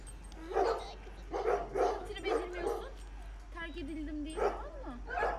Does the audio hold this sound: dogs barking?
yes